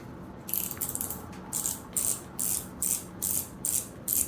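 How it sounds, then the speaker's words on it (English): An ammo slider fidget toy is slid back and forth, producing a steady series of about eight crisp ratcheting clicks in even rhythm, close and clear with no talking. "this is the ammo slider, ammo cracker, and basically what it is just a handheld"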